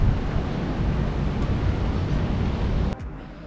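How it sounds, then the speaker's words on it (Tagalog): Strong wind roars across a high-rise residential tower balcony in Commonwealth, Quezon City, as a steady, loud broadband rush that stays level and then drops off sharply near the end. "Rinig nyo na, lakas ng hangin."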